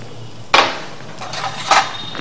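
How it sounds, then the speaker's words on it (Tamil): A knife cuts onion and tomato into rings on a board for a veggie burger, giving a few sharp, close chops spaced about half a second apart over low kitchen background noise. "ஸோ நம்ம ஆனியனும் டொமேட்டோவும் கட் பண்ணிக்கலாம்."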